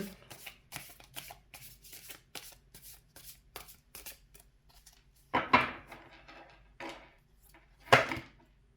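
Tarot cards are shuffled by hand in quick riffling bursts, a run of short crisp flicks and taps followed by two louder, longer shuffles, close and quiet with no talking.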